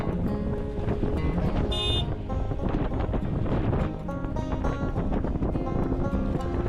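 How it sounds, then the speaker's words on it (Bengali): Strong wind buffets the microphone on the Kalipura bridge in a Bangladeshi village, a loud continuous rumbling roar that fills the whole stretch with little letup. "অনেক বাতাস, অনেক বাতাস লাগে।"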